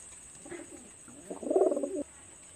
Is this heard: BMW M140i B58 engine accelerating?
no